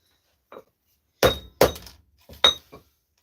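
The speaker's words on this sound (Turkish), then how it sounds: "kola kutusunu çok ince bir şekilde eziyorum" Four short, sharp metallic crunches, close and loud, with a faint smaller crinkle before them, as an aluminum cola can is crushed very flat in quick squeezes.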